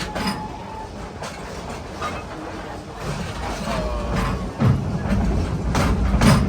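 The Serengeti Express theme park train at Busch Gardens Tampa Bay rolls along its tracks, a continuous low rumble with rhythmic clacks and rattles, a passenger car heard from onboard with faint background chatter.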